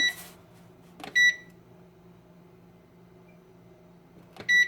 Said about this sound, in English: Set my timer for 10 minutes.